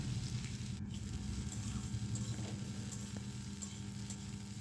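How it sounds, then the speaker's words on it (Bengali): Thinly sliced cauliflower fries in a pan with a dense, continuous sizzle, with a few faint scrapes of stirring, close and steady without talk. "ফুলকপি দেওয়ার পর ভালো করে আমি নেড়ে চেড়ে নিলাম"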